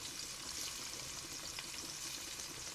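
Shrimp coated in Cajun seasoning fry in a pan with a soft, steady, continuous sizzle and hiss close by, with no voices.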